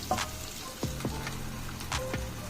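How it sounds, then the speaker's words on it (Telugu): Fish frying in a covered pan on a low flame, a steady close sizzle with crackling pops and a few sharp spits and knocks, no voices. "మూత పెట్టి వేయించుకుందాం"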